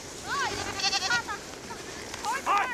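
A mother goat bleats among a nomad's goat herd mixed with yaks, several wavering cries coming in bursts close by over a rough outdoor background.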